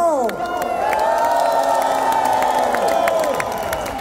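Large concert crowd at a live show in Bedford cheering, whooping and applauding continuously and loudly, with a sustained tonal drone from the stage beneath the roar.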